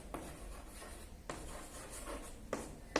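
Quiet scratchy strokes of writing on a board in a classroom, coming in a few short bursts with brief pauses between them, faint and close.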